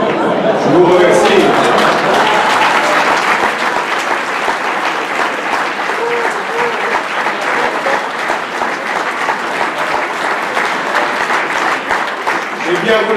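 A dinner audience at the annual CCAF gala applauds loudly and continuously, a dense sustained clapping with crowd murmur underneath, heard close and full for over ten seconds.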